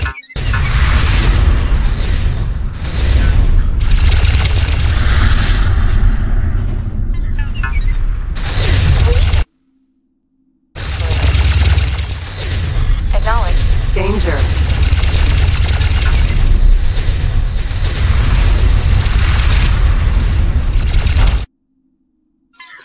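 Ships in the space game X4 Foundations trade heavy weapons fire, with loud repeated booms, bursts and crashing explosions filling most of the stretch, broken by a brief silent gap and ending abruptly.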